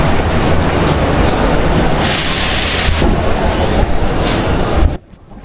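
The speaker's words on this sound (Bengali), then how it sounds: "একটা ট্রেন বেরিয়ে গেছে" A Delhi Metro Blue Line train pulls out of Rajiv Chowk station with a loud, dense rumble and a rush of wheel noise, then cuts off to a quiet hush just before the end.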